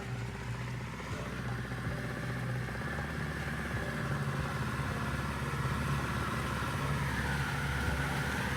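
A boat engine with a bad propeller idles and revs gently at low RPM, a steady continuous low rumble with a faint rising whine, close and even throughout.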